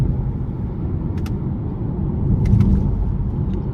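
Cabin view of a 2023 Subaru Ascent Limited with its turbocharged four-cylinder accelerating under hard throttle, a steady low engine and road rumble that swells slightly midway, with no talking.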